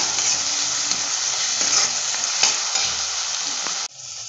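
Tomatoes sizzle and fry steadily in a hot pan with occasional stirring scrapes, then the sizzle drops abruptly near the end.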